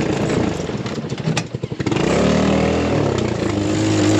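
A go-kart engine revs hard while peeling out on slickrock, starting with rapid choppy bursts before settling into a loud, steady, close drone.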